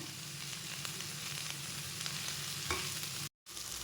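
Potato and brinjal frying with tomato and curry leaves in a pan, a steady dense sizzle with light stirring scrapes, continuous and close, briefly cutting out near the end.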